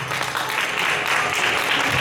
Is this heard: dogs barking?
no